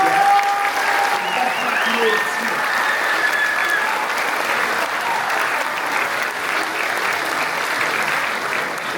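An audience applauding the performers of a school theatre show, a dense, continuous wash of clapping that stays loud and steady for about nine seconds, with faint voices underneath.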